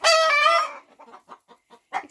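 A broody hen lets out a loud, drawn-out squawking cluck up close, followed by a series of soft, short low clucks.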